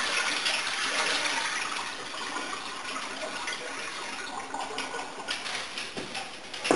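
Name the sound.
rinse water being dumped out of kale bowl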